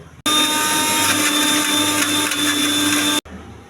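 A kitchen mixer grinder blends roasted coriander, tomato, a little salt and water for a roasted-gram tomato chutney, giving a loud, steady whirring roar for about three seconds that starts and stops abruptly.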